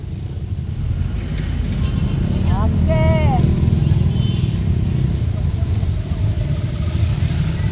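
A motorcycle in Ipil, Surigao City, backs up with its engine running steadily and close throughout, a low continuous rumble, while a person speaks briefly over it.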